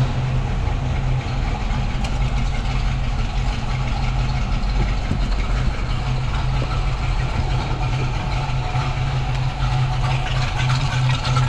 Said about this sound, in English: Car sounds great. Does have a little load to it, but it sounds fantastic.